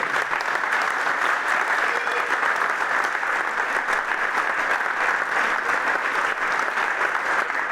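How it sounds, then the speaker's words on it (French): Dense, steady audience applause from a crowd at a Saturday-evening volunteers' reception in Vittel, sustained at even loudness throughout with no voices standing out. "je crois qu'on peut les applaudir très fort"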